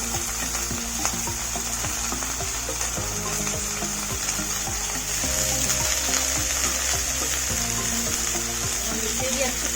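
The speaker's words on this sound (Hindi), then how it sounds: "हम इसे भी अच्छी तरह से फ्राई कर लेंगे।" Potatoes, radish and eggplant fry in a pan with onions for a mixed sabzi, a steady broadband sizzle running throughout with intermittent stirring scrapes and clinks, slightly louder in the second half.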